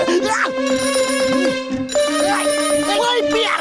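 A phone rings in a Motu Patlu cartoon, a loud, steady electronic ringtone that repeats over about four seconds, with voices and other cartoon sounds mixed in.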